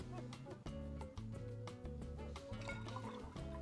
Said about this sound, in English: Next, we'll get our Pusser's rum in the cocktail